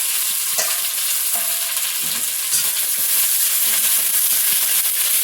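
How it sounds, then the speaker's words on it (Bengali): Chopped onion frying in hot oil crackles and sizzles steadily, a bright continuous hiss broken by small pops and occasional stirring scrapes, close and alone without voices. "তেলের মধ্যে পেঁয়াজ কুচি দিয়ে দিলাম"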